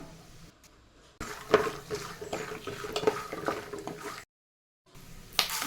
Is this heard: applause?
no